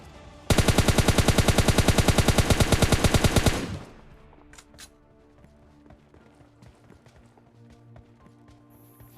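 Automatic weapon fire in the mobile game PUBG Mobile Lite, a loud rapid burst of about three seconds, then quieter game sounds and faint background noise.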